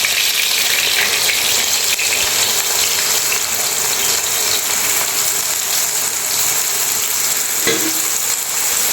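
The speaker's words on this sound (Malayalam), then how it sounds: "ഈ സോയാബീൻ ജസ്റ്റ് ഒന്ന് ഫ്രൈ ആക്കി എടുക്കണം" Soybeans shallow-fry in hot oil for a pickle, giving a loud, continuous close-up sizzle and crackle that holds steady throughout, with a brief stirring clink near the end and no talking.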